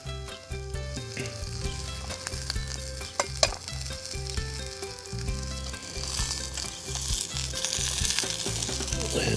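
A burger patty sizzles and crackles steadily in a non-stick pan over an outdoor camping stove, with a continuous frying hiss throughout that builds slightly louder toward the end.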